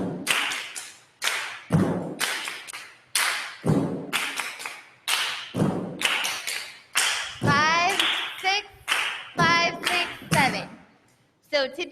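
Rhythmic flamenco claras hand clapping repeats a loud-soft-soft-loud pattern in sharp, close bursts, with a person speaking between some of the clap groups.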